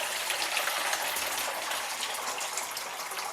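A mixture of sugar and water gushes steadily into homemade root beer, a continuous bright splashing pour that stays fairly even and slowly softens toward the end, with no talking.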